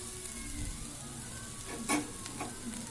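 Masala spices sizzling in a hot pan for bread masala, a steady close crackle of frying with a brief stirring scrape partway through, no voices.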